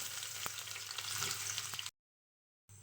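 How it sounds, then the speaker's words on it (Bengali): Chopped onion and chili fry in oil in a kadai, giving a steady, close, dense sizzle that cuts out abruptly for most of a second before resuming. "এবার একটা কড়াইয়ে পরিমাণ মতো তেল নিয়ে এর মধ্যে পেঁয়াজ কুচি আর মরিচ কুচিটা দিয়ে দিলাম"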